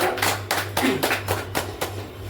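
A meeting audience claps in a few scattered bursts of hand claps, fairly close and moderate in volume, with a low steady hum underneath and no talking.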